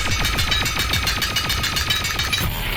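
In the video game Echo Combat, the pulsar weapon fires a loud, rapid stream of sharp synthetic shots in a fast, even rhythm. The burst stops just before the end as the weapon overheats.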